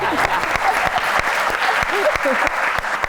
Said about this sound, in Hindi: चलें तालियां हो जाए